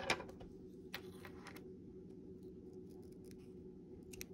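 Scissors snip through crochet yarn in a quiet room, with a couple of faint, brief cuts and light clicks over a low steady background hum.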